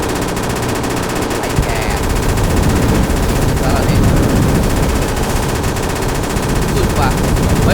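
M249 machine gun firing in a video game, a loud, dense continuous rattle of automatic fire throughout, with faint voices underneath.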